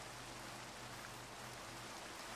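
Steady rain in a video game makes a constant, even hiss, quiet and unbroken, with a low hum beneath it.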